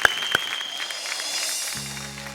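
On a folk singing reality show stage, the audience claps in a continuous, moderately loud patter, with a couple of sharp hits at the start and a sustained musical tone entering near the end.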